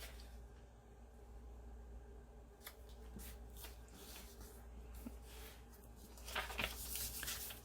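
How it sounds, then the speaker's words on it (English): A sheet of paper is folded bottom to top, with faint close rustles and creases that grow into a louder crisp crinkle near the end, no talking. "Now we're going to fold the bottom to the top."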